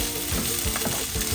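Carrot and asparagus sauté in a hot pan with a steady, close sizzle and soft stirring scrapes, heard briefly with no talking.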